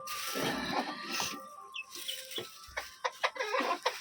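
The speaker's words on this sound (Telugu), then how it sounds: "ఇదేమో గిరిరాజ కోడి" A Giriraja chicken clucks in short, uneven bursts, with a few sharper chirps and soft rustling between the calls, fairly close by.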